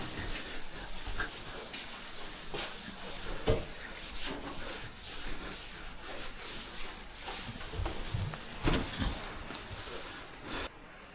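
A cloth rubs and wipes across a Ford Kuga bonnet while it is degreased, a close, continuous scrubbing swish with repeated strokes and a few sharper scuffs.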